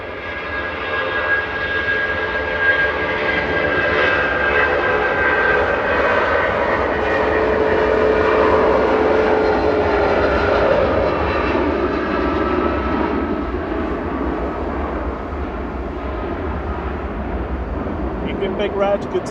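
A 27-year-old Jet2 Boeing 757 departing Manchester Airport roars steadily and loudly for the whole stretch, a broad sustained jet engine rumble that swells slightly in the middle and eases toward the end.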